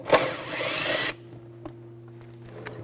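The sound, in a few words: power tool removing bolts with a 10mm socket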